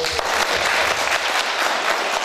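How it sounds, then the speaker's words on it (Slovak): An audience bursts into steady, dense applause throughout, many hands clapping close and loud at a family celebration. "Jeden potlesk."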